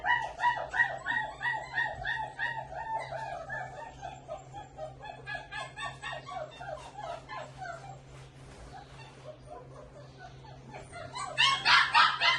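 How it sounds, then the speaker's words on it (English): Several puppies yelp, whimper and bark in quick, overlapping bursts close by, the chorus easing off midway before a louder burst of high squeals near the end. "Oh my goodness, puppies."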